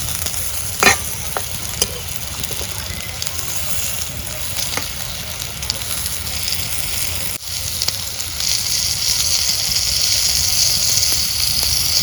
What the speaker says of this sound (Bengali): এই দেখো পটল ভাজা হয়ে গেছে